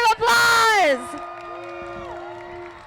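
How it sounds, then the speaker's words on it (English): A May Day rally crowd erupts in loud whoops and shrill cheering for about a second, then fades into a lingering murmur with scattered voices. "Give yourselves a round of applause."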